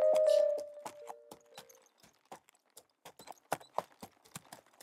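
Horse hooves clip-clop at a steady walking pace, fairly close, with a brief ringing tone at the very start.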